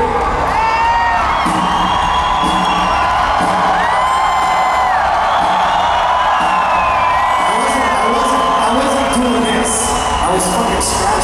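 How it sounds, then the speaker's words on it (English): A large concert crowd at a live show at Buzzfest 2017 in The Woodlands, Texas, roars and whoops loudly and continuously, with scattered yells and high shouts rising over the sustained din. "we're just gonna see how fucking loud we can get this crowd"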